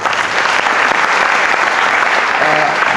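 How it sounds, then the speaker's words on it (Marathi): A large school gathering at an annual social event bursts into loud, dense applause for the chief guest, a continuous wash of clapping filling the hall without a break. "मला वाटतं सगळ्यांनी टाळ्या वाजवून त्यांचं बोल"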